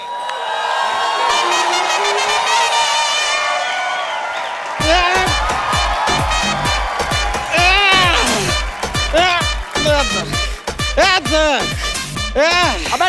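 Studio audience of a Hindi comedy talk show claps and cheers loudly for several seconds near the start, then the crowd noise gives way to excited speech and laughter that run over it.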